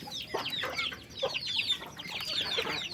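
Free-range village chickens foraging in a garden at dusk, clucking and squawking in repeated bursts close by, with no talk over them.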